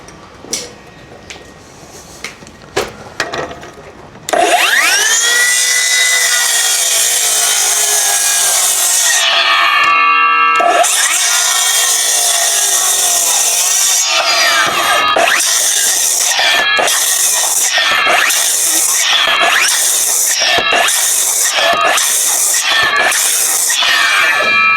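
Rapid, steady rasping of a hand saw cutting through oak timber for a traditional joint, loud and close, with a few brief pauses and a quicker run of short strokes near the end.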